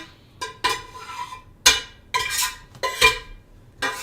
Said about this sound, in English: So now it's just a matter of putting all the onions, garlic, celery, and hamburger into the big pan.